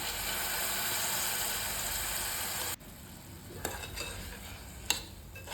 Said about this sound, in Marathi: हलवून घ्यायचं आहे